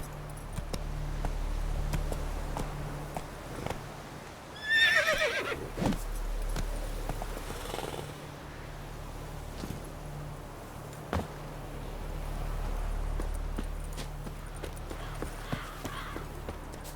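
A horse in The Witcher 3 game gallops with clip-clop hoofbeats and lets out a loud whinny around the middle, over a low rumbling game soundscape.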